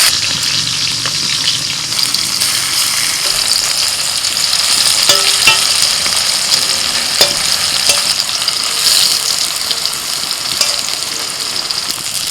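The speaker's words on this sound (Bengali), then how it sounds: "এবার ওই তেলের মধ্যে আমি কাঁচি কুমড়োটা ভেজে নিচ্ছি" Salted, turmeric-coated pumpkin slices fry in hot oil, giving a loud, steady sizzle with occasional stirring clicks and no talk.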